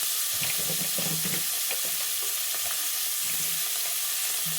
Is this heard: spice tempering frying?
yes